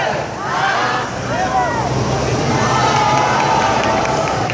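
A lively crowd at Japan Expo 2014 in Paris, cheering and shouting excitedly as gifts are handed out, a dense continuous roar of many voices close by with some wind buffeting the microphone.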